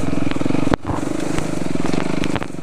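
Dirt bikes ride the valley trails of Oahu, Hawaii, with a loud, close, throbbing engine rumble and a pulsing beat, plus a few sharp knocks from the bikes over rough ground.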